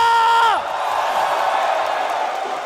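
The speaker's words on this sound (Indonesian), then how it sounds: "Kalau gitu Istora mana tepuk tangannya?" An esports arena crowd at Istora roars and applauds during an ONIC versus BRENN match, a dense wash of cheering that follows a brief rising whoop at the start.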